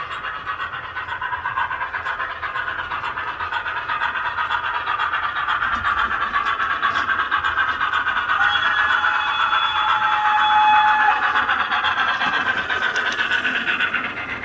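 The steam locomotive Dinmore Manor hisses and rumbles steadily at rest on the Gloucestershire and Warwickshire Railway, a constant loud wash of steam noise with faint mechanical clanks.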